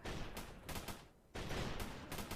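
Gunfire from sniper and scout weapons in the Roblox game Battle Towers: loud, rapid bursts of shots with a short pause in the middle, then more sustained firing.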